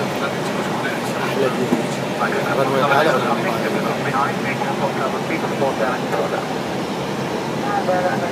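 Inside the cabin of an airplane landing at Amman Queen Alia International Airport, a steady broadband roar of engines and airflow holds throughout, loud and continuous, with faint voices mixed under it.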